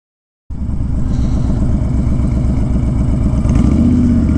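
Honda Fury motorcycle cruising in fifth gear at highway speed, its engine cutting in abruptly after a brief silence and holding a loud, steady pulsing drone with wind rush, no voices.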